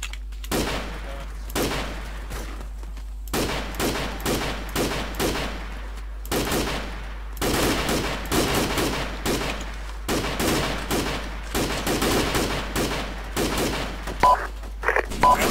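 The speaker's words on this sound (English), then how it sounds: "Enemy fire! Enemy fire!" Airsoft gunfire during a game, repeated quick volleys of snapping shots from fairly close range, coming in clusters with short gaps across the whole stretch.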